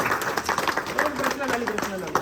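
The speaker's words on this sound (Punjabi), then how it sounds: "ਤਾੜੀਆਂ ਲਾ ਦਿਓ ਜੀ ਸਾਰੇ ਜਣੇ ਬੱਚੇ ਦੇ ਨਾਲ" An audience at an art exhibition in Bathinda claps for a child, with a scattered burst of hand claps rising and falling beneath a person talking nearby.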